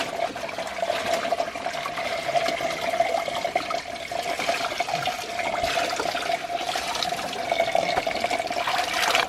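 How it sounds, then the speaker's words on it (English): Laundry being rinsed by hand in a basin of dirty water, a continuous sloshing and splashing wash of water close by, steady throughout with no talk. "Look how dirty that water is. It's just the first rinse."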